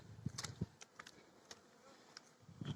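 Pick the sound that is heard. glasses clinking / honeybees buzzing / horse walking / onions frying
honeybees buzzing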